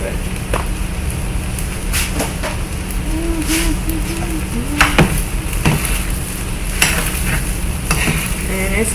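Vegetables and rice fry in a pan with a continuous close sizzle, broken by scraping stirs and a few sharp utensil knocks, as a voice talks briefly in the background.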